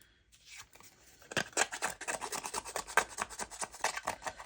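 Scissors scraped repeatedly across glued paper to rough it up for a scrapbook page, a quick series of dry rasping strokes close by, starting after a brief silence and continuing steadily.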